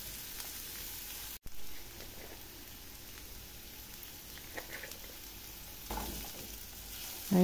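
Sweet potato leaves sauté in a pan, giving a quiet, steady sizzle with soft crackles and brief stirring noises, heard alone without voices.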